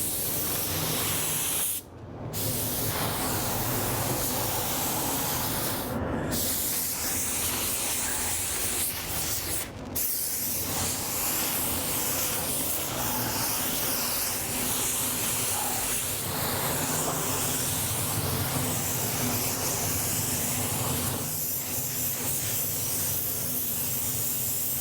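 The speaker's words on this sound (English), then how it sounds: "Well, what do you think how that sprays?" Spray gun laying paint on a classic Ford Bronco body in a shop: a loud, steady hiss running almost continuously for the whole stretch, broken by a few very short pauses, with no speech.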